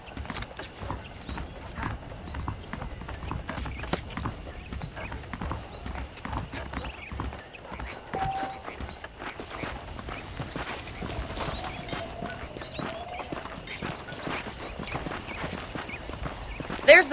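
Steady clip-clop of a horse's hooves walking through Red Dead Redemption, a continuous even rhythm close by with an occasional snort, under a voice.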